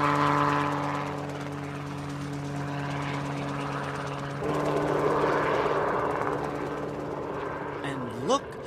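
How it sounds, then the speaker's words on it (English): A helicopter flies close with a steady, droning rotor and engine hum that shifts as it turns, ending in a quick swooping pitch change, while a voice talks over it. "Ever seen a helicopter up close before?"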